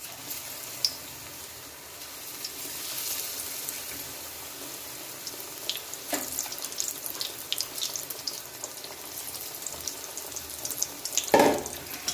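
A steady crackling hiss of potato puris frying in hot oil fills the scene, with occasional sharper pops and no voices.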